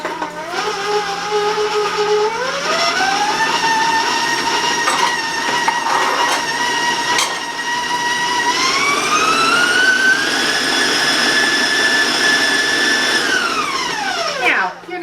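An electric mixer beating butter and sugar whirs loudly, its motor pitch climbing as speed increases, holding a high steady whine, then winding down at the end.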